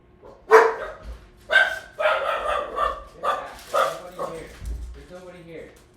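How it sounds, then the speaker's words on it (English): Winnie, a pet dog at home, barks repeatedly at the front door in a string of loud, close barks roughly a second apart, mixed with a person talking. "You're barking at nothing."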